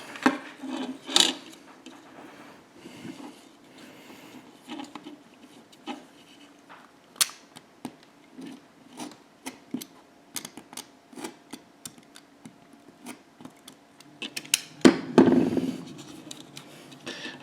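Parts of an Eaglemoss Nissan GT-R model kit being trimmed, giving quiet, close clicks, snips and scraping rubs at irregular intervals, with a louder rasping burst near the end.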